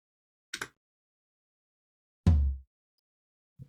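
A single unprocessed hit on the second tom of the Get Good Drums P4 kit in a Cubase mix: one loud, deep thud that rings briefly and decays, with a couple of faint, short taps before and after.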